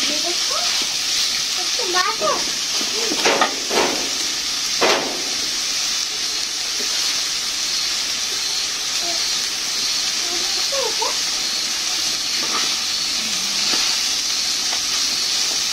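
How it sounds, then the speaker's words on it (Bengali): Crab frying in a pan over a high flame, a steady bright sizzle and hiss with a few scraping stirs near the start, close and continuous, while a voice talks briefly over it. "কড়া করে ভাজা হয়ে গেছে কাঁকড়া,"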